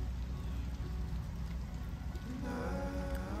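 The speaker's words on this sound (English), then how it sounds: "I don't mind the rain, because it's kind of fun." Steady rain falls and patters on surfaces close by, a constant dense hiss with no voices.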